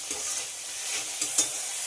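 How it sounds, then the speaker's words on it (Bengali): Onions and tomatoes fry and get stirred in a pan, a steady soft sizzle with a few scraping stirs near the end, close and alone. "পেঁয়াজের সঙ্গে টমেটোটাও খুব ভালো করে ভেজে নিতে হবে।"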